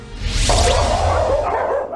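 Dogs at a crowded animal shelter in Davao bark and yelp loudly, the barking continuous and echoing over a dense background of other animal noise.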